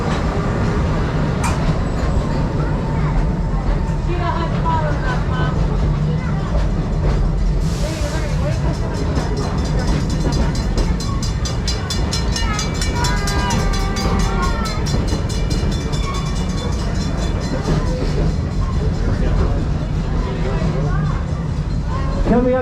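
Serengeti Express train ride at Busch Gardens Tampa, with a steady loud rumble of rail cars rolling along and faint clickety-clack, overlaid by continuous talk and crowd chatter throughout.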